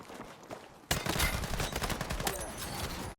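Rapid gunfire rattles in Battlefield 6 battle royale play, dense bursts of shots starting suddenly after a quieter stretch and continuing steadily at close range, with no speech.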